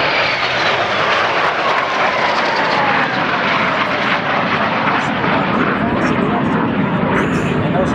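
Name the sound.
Vampire jet aircraft racing past at air show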